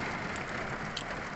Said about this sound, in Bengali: হেভি বৃষ্টি হচ্ছে।